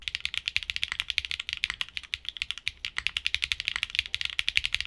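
Rapid, steady clacking of HMX Cheese switches on a mechanical keyboard, loud and bright, with crisp high-pitched clicks in a continuous typing rhythm and no voices.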